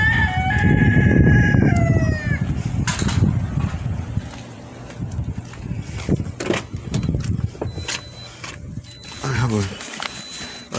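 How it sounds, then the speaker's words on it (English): Chickens cluck and a rooster crows near the start, while a person talks intermittently over wind noise and shuffling. "Bloody chickens. Get on my nerves."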